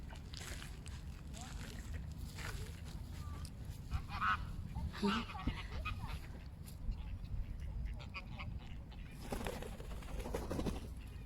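Ducks, geese and other birds honk and quack on and off while being fed bread outdoors, scattered calls rising over a steady open-air background with people talking nearby.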